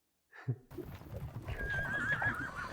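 A horse neighs loudly in a Game of Thrones episode, one long whinny rising and wavering near the end, with a quiet voice or snort at the start and faint hoof clatter and rumble under it.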